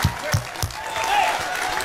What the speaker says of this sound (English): Folks, let's give this man a round of applause on this 4th of July.